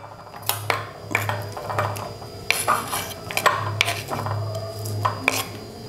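Sliced plantain rounds are dropped into a bowl, giving a series of clinking knocks and scrapes of utensil against dishware at an uneven, steady pace, close and clear with no talk.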